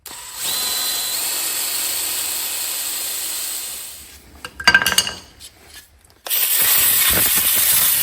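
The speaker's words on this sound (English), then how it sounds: "this bolt here is being a pain in the ass. I can't get it out. I'm just going to drill it out." A power drill bores into a stuck bolt on a 1972 Kawasaki H1-b motorcycle, whining steadily for several seconds, stopping with metallic clatter, then starting again loud and close.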